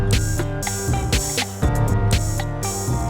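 M8 tracker synth track playing one note at a time, a dense, bright electronic line of rapid repeating tones over a steady low bass, loud and continuous with no voices.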